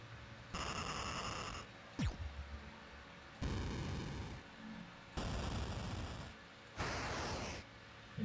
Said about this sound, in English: Classic explosion.